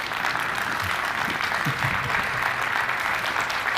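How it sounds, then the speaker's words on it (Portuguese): Steady, even applause fills a conference hall at MESA Tendências 2023 as Arnaldo Lorençato is welcomed to the stage. The broad, continuous clapping comes from a large audience, with no talk over it. "uma grande salva de palmas"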